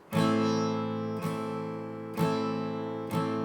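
Four long, ringing guitar strums spaced about a second apart, each chord sustaining fully before the next downstroke, with no short strokes in between.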